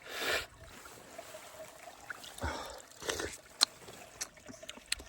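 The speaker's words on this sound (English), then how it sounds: "I've luckily managed to find the smallest little stream. I'm just trying to wash the sweat off my face." A tiny highland stream on Knoydart trickling and splashing faintly as hands scoop water to wash a sweaty face, with soft intermittent dribbles and splashes close by on a hot day, with no talking heard.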